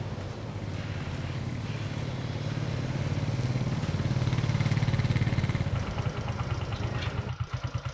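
A newly bought 70cc motorcycle runs nearby on a test ride. Its small engine drones steadily, swells louder in the middle and then eases off, with no talking.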